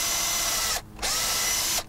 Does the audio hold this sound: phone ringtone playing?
no